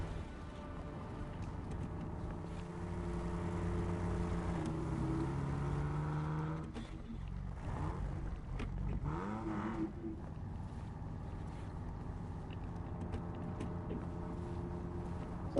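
A Jeep engine in the video game Snowrunner, all-wheel drive engaged, drones steadily and loudly, and its tone and pitch shift partway through as it pulls away.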